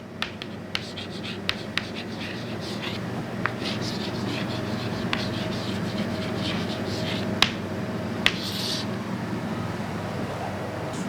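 Chalk or marker writing on a board during an aerodynamics lecture, with scratchy strokes and sharp taps scattered over a steady room hum, fairly close.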